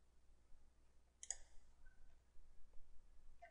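A single sharp computer mouse click in a quiet room during CAD modelling work, with a couple of fainter ticks afterward and no talking.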